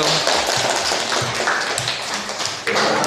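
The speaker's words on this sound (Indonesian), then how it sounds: "Aplaus buat kelompok 1." A group applauds at a classroom presentation: steady, dense clapping from many hands, fairly close and loud, running without a break for a few seconds.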